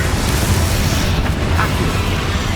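Confringo blast spell exploding during a boss fight against Ranrock in Hogwarts Legacy on PS5, heard as a dense, continuous, loud booming rumble with a fiery burst texture and no clear gaps.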